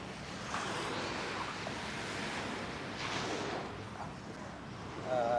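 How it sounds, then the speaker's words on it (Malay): Ocean waves break and wash steadily along a shore, a continuous roaring surf with gentle swells in loudness, close by and with no voices over it. "Dengar bunyi ombak. Dengar tak?"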